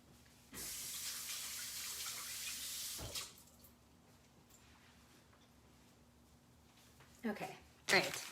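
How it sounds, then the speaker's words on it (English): A kitchen tap runs for a few seconds while hands are washed before preparing a poke bowl and crab salad, then shuts off, leaving a quiet room. Short splashes and handling sounds follow near the end. "Let me wash my hands."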